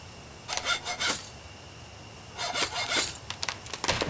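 A hacksaw cuts metal in the game Halloween Stories Invitation: two bursts of quick back-and-forth rasping strokes separated by a short pause, fairly faint, with no talk.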